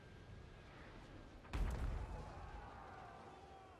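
Cannon fire on a Total War: Warhammer 2 battlefield, a single deep boom rolling out over a low background rumble, no speech.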